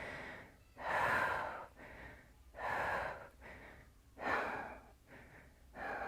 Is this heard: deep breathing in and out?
yes